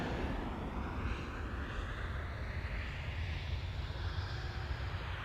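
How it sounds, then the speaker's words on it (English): A KLM Boeing 787-10 Dreamliner airliner arriving from Delhi, heard as a steady, continuous broadband jet roar at moderate distance, holding level throughout with no talk. "KLM flight 870, 787-10 Dreamliner arriving from Delhi in India."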